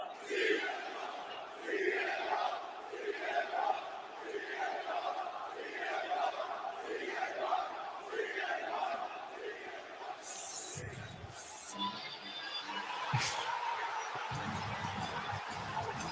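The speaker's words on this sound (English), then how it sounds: "But you get that raw pop though." Wrestling arena crowd at CM Punk's return to AEW, a dense roaring, chanting mass of voices that surges rhythmically for much of the stretch, then thins as a few sharp bursts and louder noises cut in near the end.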